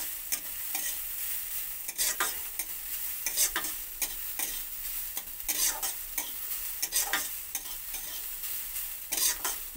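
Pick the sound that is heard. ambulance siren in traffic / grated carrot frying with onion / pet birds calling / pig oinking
grated carrot frying with onion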